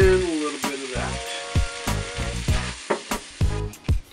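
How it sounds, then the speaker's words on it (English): Kidney beans and black beans are cooked in a pan with onions and garlic, giving a steady sizzle broken by sharp clattering stirs and scrapes that come in an uneven rhythm. "We got some kidney beans and some black beans. We're gonna dump those in."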